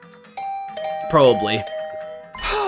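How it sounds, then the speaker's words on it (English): A video game doorbell rings in The Hundred Line, a clear ding-dong chime heard alone at close range, with a short spoken word just before it and a brief burst of noise at the end. "I was brought back to the land of the living by the unrelenting ringing of my doorbell"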